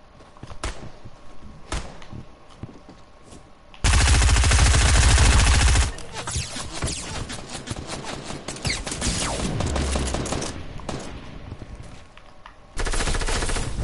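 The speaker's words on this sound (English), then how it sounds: "This bitch up here was shooting at me, and the bitch behind me was getting shot at too." Rapid submachine-gun fire rattles through a video game match in short bursts and one long loud stretch, mixed with thuds and scattered single shots, close and dense, with no talk over it.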